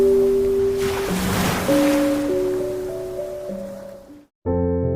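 Surf on a deserted, lonely beach swells once and recedes, a soft rush of washing water beneath sustained musical tones that cut out briefly before resuming.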